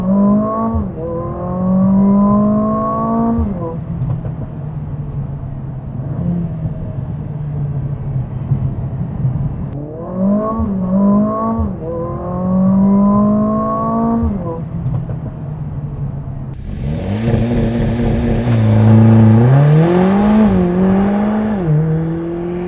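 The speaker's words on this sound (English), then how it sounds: "Foot hard on the brake with my left, foot hard on the right for the gas, rev up, and we're off." A 2020 Mercedes-Benz CLA 45 AMG revs on launch control, then pulls away hard through the gears. The engine note climbs in repeated rising sweeps, loud and close from the cabin, with a harsher surge near the end.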